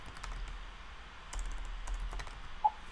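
Soft typing on a computer keyboard, a quiet scattering of key taps in short bursts against faint background hum, with one sharper click near the end.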